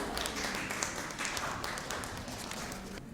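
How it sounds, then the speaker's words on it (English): Applause from a conference audience at an international academic gathering, a steady wash of many hands clapping that fills the room for about three seconds without any voices over it. "Can we have a huge round of applause for sir?"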